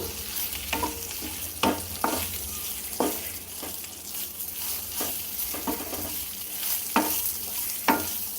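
Spoon scrapes and stirs through pieces of leftover idli being fried with sambar powder and masala in a pan, a run of sharp clinks and scrapes every second or so over a low steady sizzle.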